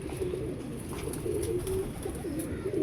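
Sialkoti pigeons coo close by, with repeated low throaty calls rolling over one another in a continuous murmur.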